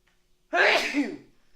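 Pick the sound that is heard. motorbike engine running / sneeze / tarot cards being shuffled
sneeze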